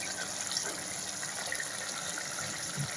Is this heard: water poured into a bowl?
yes